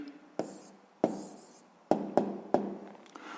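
Pen writing an answer on paper during a sixth-grade maths lesson, a few quiet scratchy strokes separated by short pauses, close and alone.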